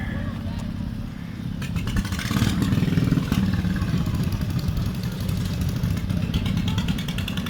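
A John Deere 830 pulling tractor engine runs at an old-fashioned farmers day show in Silk Hope, giving a steady, loud, low rumble with a rise in intensity midway while people talk nearby.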